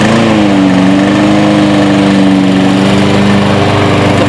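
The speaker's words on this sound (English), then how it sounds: "The first time this gas engine's been started since it got to our factory." The gas engine of an RCLM S Class remote-controlled lawn mower runs loud and steady at close range in a factory, a constant droning hum with no talking.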